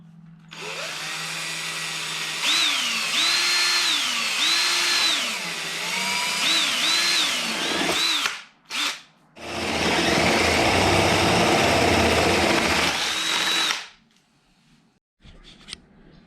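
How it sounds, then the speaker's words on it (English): A power drill bores a hole through a truck floor during an expedition truck build, whining loudly with rising and falling pitch for about eight seconds, then a brief burst and a steady, louder grinding run as it cuts through. "Yeah, so I guess drill a hole."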